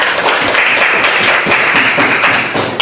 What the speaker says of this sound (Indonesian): Tepuk tangan buat Kak Caca